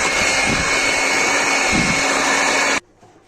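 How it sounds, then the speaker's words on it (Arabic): An electric hand mixer beats butter for a shortbread mixture with a loud continuous whirring motor, the beaters knocking softly against the bowl, before it switches off abruptly near the end. "هنضربهم دقيقتين بالمضرب، وبعد كده ننزل عليهم سكر البودر"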